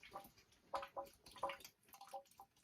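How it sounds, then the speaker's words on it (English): A reverse osmosis drinking water system stuck backwashing from a faulty auto shutoff valve, giving faint, irregular drips and ticking plinks that repeat every fraction of a second in a quiet room. "It appears to be backwashing all the time, and from what I've read, that is commonly caused by a malfunctioning auto shutoff valve."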